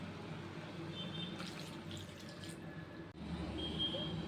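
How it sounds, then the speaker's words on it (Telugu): A glass of water is poured into a pot of mutton curry in a home kitchen, a faint, steady splashing and trickling that lasts a few seconds. "అలానే ఇప్పుడు మనము ఒక గ్లాస్ వాటర్ యాడ్ చేసుకుందాం."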